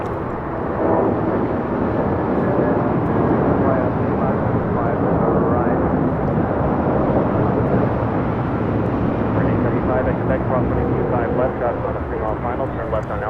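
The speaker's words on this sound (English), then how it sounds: "This is United Airlines 754 taking off to Newark on a 757-200." A United Airlines Boeing 757-200 takes off from LAX, a loud sustained jet engine roar filling the whole stretch, broad and steady without letting up.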